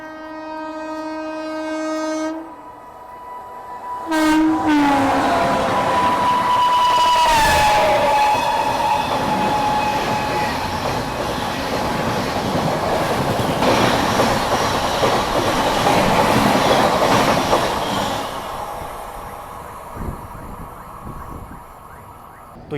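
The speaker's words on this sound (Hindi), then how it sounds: "तो दोनों ही ट्रेनें जो हैं वो एक साथ एक ही मौके पे यहाँ से गुजरी।" Two Indian Railways express trains, the Amritsar Shatabdi Express and the Amrapali Express, pass at speed on adjacent tracks, sounding horns over a loud, sustained roar of wheels and carriages that rises and fades away.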